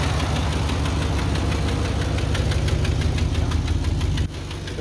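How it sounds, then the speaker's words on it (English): Ford F-350 pickup truck engine idling with an exhaust leak: a loud, steady, close-up rumble with a rapid ticking pulse that continues without a break and drops slightly in level near the end. "This is the Ford F-350 running."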